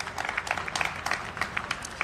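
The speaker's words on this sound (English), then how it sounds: "Also, to our Congressman, Robert Mendez, give him a round of applause also for being here." A crowd claps steadily at a transit announcement event at Brick Church Station, dense overlapping hand claps filling the space at moderate volume.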